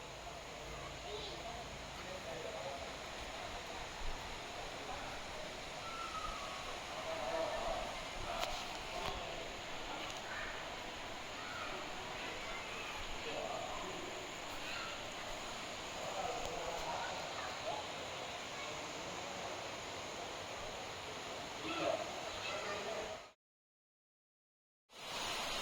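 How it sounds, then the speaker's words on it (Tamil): Jalakambarai waterfall roars as a steady broadband rush that fills the whole stretch, constant and moderately loud, with faint voices now and then before an abrupt cut near the end. "அந்த அருவியோட சவுண்டு கேளுங்க."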